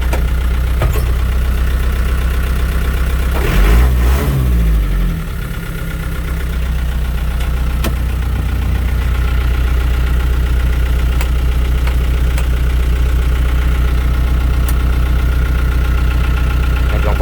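A six-wheel KM505 truck fitted with a swapped Hino 117 engine idles loud and close, a steady low rumble with a brief heavier surge early on, then settling back to an even idle.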